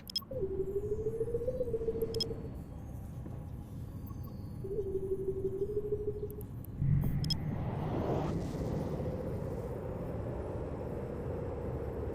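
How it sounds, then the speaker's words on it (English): Spaceship warp drive in the EVE Online video game: steady electronic drones with a rising tonal whine, then a loud whooshing surge as the ship jumps into warp and settles into a sustained rumbling hum. "Warp drive active."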